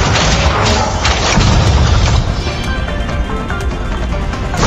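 Bombs exploding in the video game Honkai: Star Rail: a loud, continuous rumbling boom with heavy low-end crashes, dense and sustained throughout without a break.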